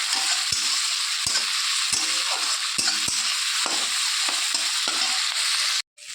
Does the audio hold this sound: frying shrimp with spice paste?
yes